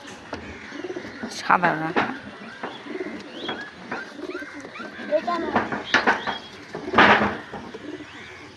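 Pigeons at a loft, including a newly bought Matraj pigeon, cooing and calling close by in soft repeated bursts, with someone talking over and between the calls.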